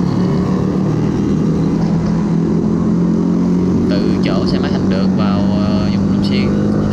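Motorbikes, including a Yamaha R15 V3, ride a rainy-season off-road trail near Long Xuyen, with a steady engine drone that continues throughout and faint higher noises joining toward the end.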